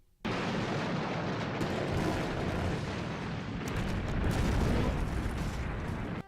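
A long, deep rumbling roar of a movie explosion in Thunderbirds, sustained for several seconds, loud and dense, swelling slightly toward the end before cutting off.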